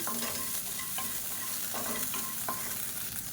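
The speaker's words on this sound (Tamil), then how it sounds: "இதையும் சேர்த்து வறுத்துக்கலாம்." Salt is dry roasted with idli podi ingredients in a pan, stirred with a spatula that scrapes and clicks at regular intervals over a dense, steady rustling hiss, close and without talk.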